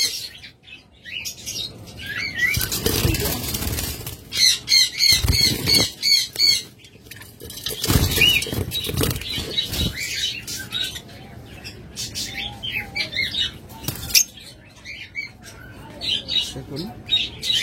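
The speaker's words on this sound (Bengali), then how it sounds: "এটা হলো পাইড মাক্স, চমৎকার একটা মিউটেশন, চমৎকার একটা পাখি" Pied mask mutation pet birds in a cage squawk and chirp in loud bursts with wing flapping, while someone talks over them up close.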